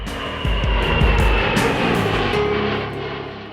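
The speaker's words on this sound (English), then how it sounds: "the aircraft takes off from the aircraft carrier deck and begins operational flights" A U.S. Navy AV-8B Harrier II jet takes off from an aircraft carrier deck. A loud, steady jet engine roar swells and holds with broad rushing noise, with no talk.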